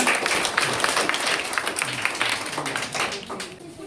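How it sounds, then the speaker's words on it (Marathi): A school audience at a Word Champion competition in Daithana, Parbhani, claps steadily: dense, even applause from a sizable crowd that holds for several seconds and then thins out toward the end. "छान टाळ्या वाजवा"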